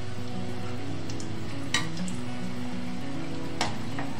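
Spinach kofta fry gently over a low flame, giving a soft, steady sizzle with a couple of brief clinks as they are turned, close and unbroken with no talking.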